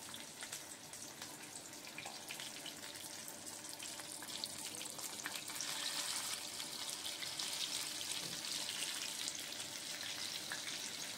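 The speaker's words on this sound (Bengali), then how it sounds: "আমি সাদা তেলে ভাজছি।" Fish-oil fritters fry in white cooking oil with a soft, continuous sizzle that swells slightly partway through, heard quietly and without voices.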